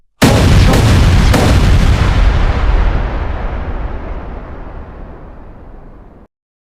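Bombs exploding in one huge, close blast that erupts suddenly, with a couple of sharp cracks inside it, then rolls on as a heavy rumbling roar that fades over several seconds before cutting off.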